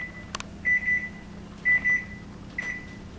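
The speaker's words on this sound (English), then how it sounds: "That's my timer going off." A kitchen timer in a home kitchen beeps in three short bursts, each a quick pair or run of high, clear electronic tones, loud and close with a quiet room hum beneath.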